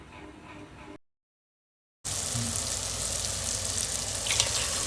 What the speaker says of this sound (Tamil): 1 கப் தண்ணி ஆட் பண்ணி நல்லா கொதிக்க விட்டுறணும்.